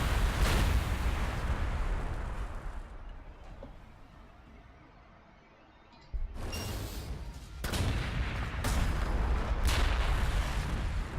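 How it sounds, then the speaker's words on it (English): Heavy artillery fire in the Warhammer 40,000: Gladius strategy game, Astra Militarum faction: loud booming blasts, a quieter lull in the middle, then a sudden return of repeated explosive impacts. "Artillery not doing too much."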